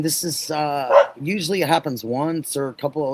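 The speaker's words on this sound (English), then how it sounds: "Sorry about the dogs barking." Dogs bark along a fence, several yaps breaking up a stretch of steady close talking that runs over most of the moment.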